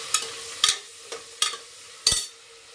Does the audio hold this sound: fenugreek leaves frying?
yes